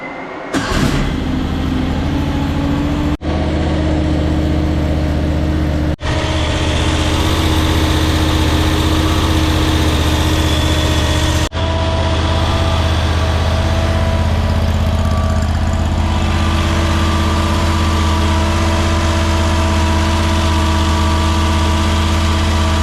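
AGT Industrial LRT23 mini skid steer engine idling after an oil and filter change, a loud, steady low chugging drone that runs unbroken throughout, with a few faint clicks at the start and no talk.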